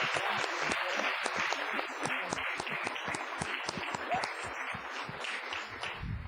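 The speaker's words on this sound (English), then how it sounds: "a round of applause for everybody" Audience applause at a school board meeting, dense steady clapping from a roomful of people that carries on evenly throughout, fairly quiet and with no voices over it.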